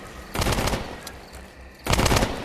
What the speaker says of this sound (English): Don't worry about gunfire.